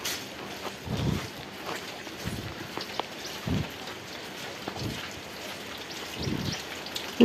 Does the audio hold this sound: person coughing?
no